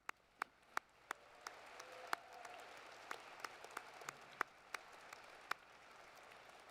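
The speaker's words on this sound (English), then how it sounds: "let's give them a hand of applause" Scattered, faint hand claps at a Noorda College of Osteopathic Medicine white coat ceremony, with sharp separate slaps spread irregularly over a quiet room murmur.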